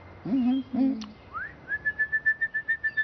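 A small bird whistles: two low warbling calls and a rising slide, then a quick run of about nine evenly spaced high chirps, clear and close with nothing else around.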